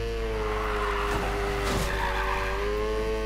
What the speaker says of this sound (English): It is gonna be a beautiful drift machine, this is. Especially on this game as well. The drifting's crazy anyway.